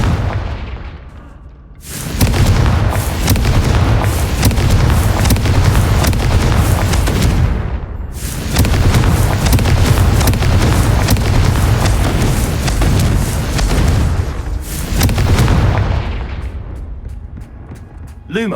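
The Confringo explosion spell goes off in the video game Hogwarts Legacy with heavy, loud booming blasts in several long sustained bursts separated by short gaps.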